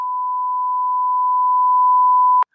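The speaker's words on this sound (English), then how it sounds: "I'll beep that out" Censor beep covering a spoiler in conversation: a single steady pure tone held for over two seconds, loud and close, then cut off abruptly with a tiny click.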